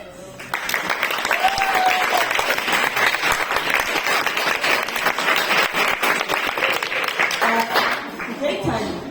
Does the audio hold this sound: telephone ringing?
no